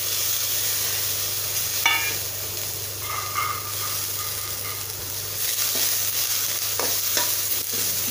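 Mudakathan greens, added to a pan with ginger and shallots, sizzle steadily on the stove as they are stirred, with a constant frying hiss and occasional scraping clicks of the spoon.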